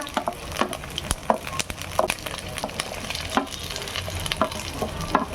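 Sliced shallots, green chillies and curry leaves fry with fenugreek seeds in hot oil, a steady close sizzle broken by scattered pops and scraping stirs.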